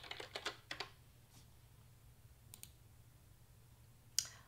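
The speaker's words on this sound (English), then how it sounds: "I'm going to type in Keaton" Computer keyboard typing as a word is entered into a font design program, a quick burst of key clicks at the start, then a few scattered taps and a final sharp click, close and fairly quiet.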